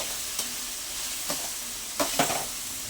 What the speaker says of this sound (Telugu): ఇప్పుడు మంచిగా ఒక ఫైవ్ మినిట్స్ పాటు సిమ్లో మగ్గనిద్దాం